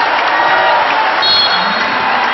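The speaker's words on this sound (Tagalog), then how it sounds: "the crowd egging on the Philippine Army" A loud arena crowd cheering and roaring for the Philippine Army team at a volleyball final, a dense continuous wash of voices and whoops with a faint whistle-like tone partway through.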